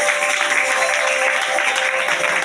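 A church congregation applauding, a dense steady wash of clapping from many hands filling the room throughout, loud and continuous with no pauses.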